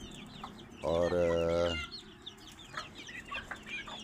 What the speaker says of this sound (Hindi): बाकी ये 9 मुर्गियाँ हैं, एक मुर्गा है उसमें।